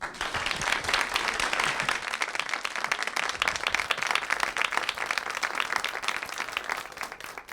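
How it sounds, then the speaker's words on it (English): An audience at a management lecture series claps steadily for a keynote speaker, a dense, even wash of applause that carries on without a break and stays fairly soft throughout. "Please give a warm round of applause to our 21st Millennium Management keynote speaker, Ms. Felecia Hatcher."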